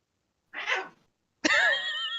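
A pet cat makes a short, breathy chirp. After a brief pause it gives a louder, drawn-out meow, close and clear in a quiet room.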